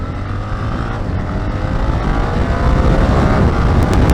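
A BMW R 1300 GS motorcycle accelerating in second gear at about 30 mph, its engine a loud, steady, rising drone blended with heavy wind rush, continuous throughout.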